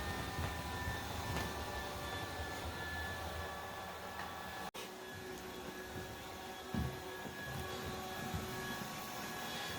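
A Yeedi Mop Station Pro robot vacuum mop hums steadily while mapping the floor, a continuous near motor whir with a faint tonal whine, broken by one brief dropout and a light bump.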